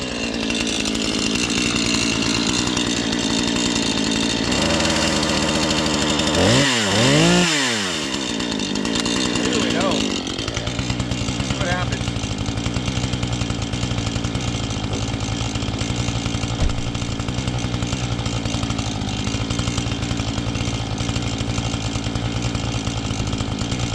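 Chainsaws, a 440 and a Promac 610, cutting firewood, a loud continuous close engine whine that bogs and swings in pitch as the chain bites into the wood, then settles into a steady roar.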